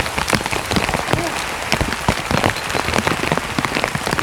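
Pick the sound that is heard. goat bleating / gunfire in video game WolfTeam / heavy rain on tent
heavy rain on tent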